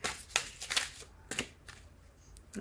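Soft riffling and slapping of tarot cards being shuffled in quick bursts, close by and fairly quiet, with short pauses between the flurries.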